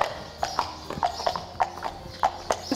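Hooves of a lame show jumping and dressage horse clip-clop on a hard surface at an equine veterinary hospital in a steady walking rhythm, close by, over a low background hum.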